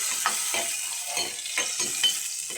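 Tomatoes and green chillies frying in a pan, stirred with repeated scraping strokes at a steady rhythm over a soft continuous sizzle, close and fairly quiet with no talk.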